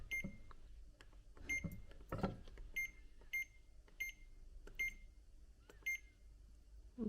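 A Xiaomi pressure cooker's control panel gives a series of short, faint electronic beeps at roughly even intervals, mixed with quiet handling clicks and thumps close by.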